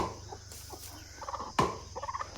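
Chickens on an integrated farm cluck softly and repeatedly in short bursts, close by and fairly faint, over a low background hum.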